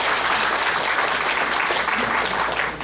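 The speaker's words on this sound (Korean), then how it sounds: "좀 박수 좀 쳐주십시오" An audience at a committee launch ceremony in a Seoul hall gives dense, continuous applause that stays loud and even before tapering slightly at the end.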